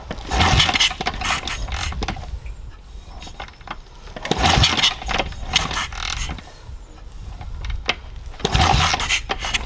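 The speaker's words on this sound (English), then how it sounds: "I'm going to be able to kick it down without a ton of compression and hopefully get the motor spinning" Repeated kicks of a BSA 441 Victor motorcycle's kick-starter, three heavy mechanical strokes spaced a few seconds apart with the single-cylinder engine turning over without firing, close by.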